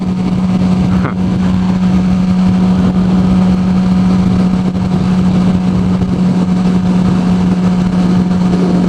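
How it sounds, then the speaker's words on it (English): A motorcycle running with no exhaust fitted drones loudly and steadily in a close ride-along, with a constant low engine hum and wind rush over the whole stretch. "Feel the engine just start to roar."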